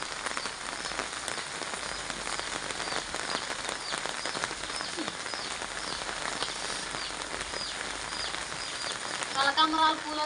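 Steady, heavy rain pours onto freshly dug, soft soil in a field being planted, a continuous close patter that swells slightly toward the end.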